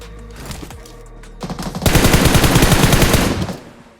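Gunfire in the mobile battle royale game BGMI (PUBG Mobile), fired from a Mini14 on auto: a few sparse shots, then a loud, dense burst of rapid automatic fire lasting nearly two seconds before fading.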